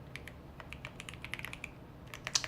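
Quiet, irregular clicking of fingers typing on a computer keyboard during web development work, short key taps in uneven bursts with a faint background hum and no talk.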